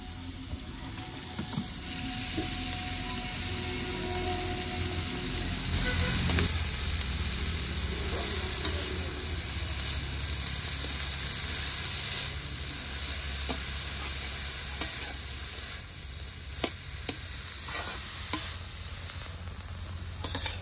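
Chickpea greens go into a pan of fried crab, giving a steady broad sizzle and hiss under a low background hum, with sharp clicks and scrapes of stirring near the end.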